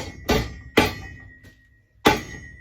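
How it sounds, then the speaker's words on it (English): Metal piece hammered down into an L-shaped bend, three sharp ringing strikes at close range with a faint tap between, each blow leaving a brief metallic ring in a quiet room. "We're just gonna hammer this sucker down."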